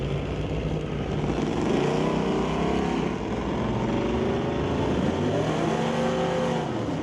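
A 1958 Oldsmobile at an old-time drag race at Mission Raceway Park gives a loud, steady engine roar that swells and eases, close by with no talk.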